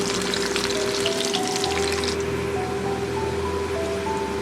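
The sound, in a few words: thinly sliced potatoes frying in oil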